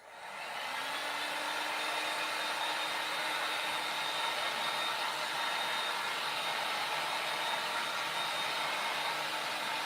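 A blow dryer runs steadily and loudly at close range, drying a DIY wooden table riser, a continuous whirring hum that starts in the first second and holds without a break.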